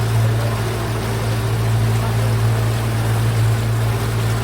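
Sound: small boat crossing a lake

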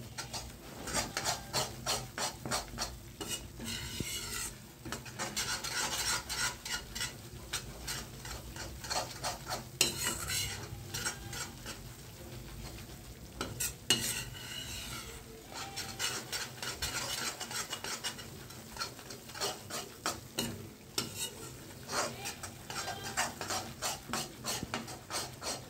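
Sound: stirring and roasting urad flour in a pan for adadiya

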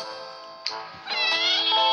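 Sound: cat meowing

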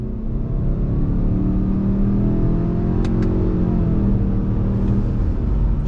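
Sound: 2021 Subaru Ascent SUV accelerating on throttle

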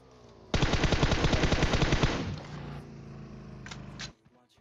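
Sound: gunfire in video game PUBG Mobile

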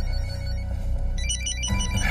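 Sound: phone ringtone, incoming call

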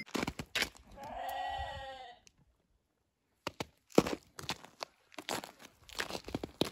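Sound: sheep bleating

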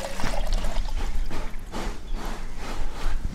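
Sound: pouring water into a pot of dry ginger powder

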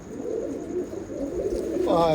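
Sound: pigeons cooing

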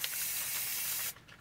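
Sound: Neverwet spray being applied

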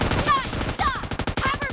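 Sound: gunfire in video game PUBG Mobile Lite

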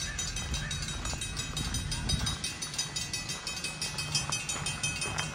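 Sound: train passing at Heritage Park

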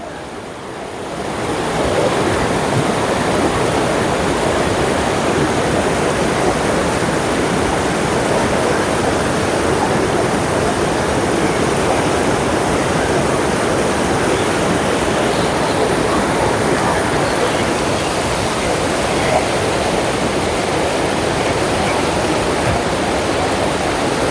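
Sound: floodwater rushing in the Sarabanga river toward Vellalapuram lake

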